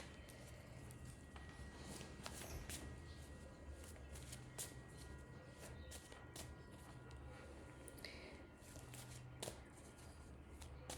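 Tarot cards being shuffled by hand for a reading, giving soft, repeated papery flicks and riffles that run steadily throughout under a low background hum, fairly quiet and close.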